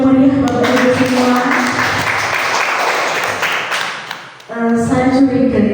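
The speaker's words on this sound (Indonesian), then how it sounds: "Tepuk tangan yang meriah Bapak Ibu semua." Audience at a school cultural dissemination event applauding for a few seconds between stretches of a voice speaking at the start and end.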